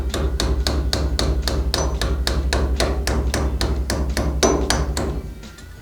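Steady, evenly spaced hammer blows on metal locking plate tabs of a VW Type 1 link pin front beam, about three per second, sharp and close, continuing for several seconds before stopping.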